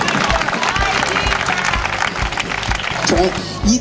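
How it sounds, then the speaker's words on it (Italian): An audience applauds at an evening live show held in a piazza in Porto Torres, a dense, noisy burst of clapping mixed with a voice speaking over it. "Un applauso, grazie."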